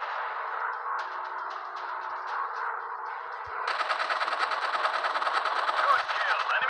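Fighter plane machine guns in a warplanes video game, continuous rapid automatic fire that grows denser and brighter partway through, loud and steady under a faint engine drone.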